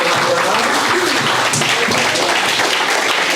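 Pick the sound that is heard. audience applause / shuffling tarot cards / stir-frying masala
audience applause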